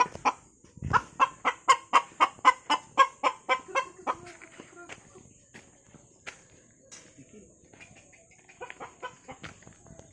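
Several chickens cluck and a hen gives a rapid run of loud rhythmic clucks at close range, then softer scattered clucking, with faint footsteps and chirping crickets in the background.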